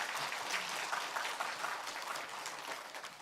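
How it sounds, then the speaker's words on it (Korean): Church congregation applauding in welcome during a Sunday service, a broad wash of many hands clapping, steady and somewhat distant throughout. "우리 환영의 박수"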